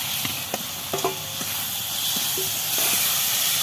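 Potatoes hit hot oil in a pan for an aloo baingan curry, and a loud, steady sizzling hiss fills the whole stretch. A few light clinks of a utensil against the pan sound near the start.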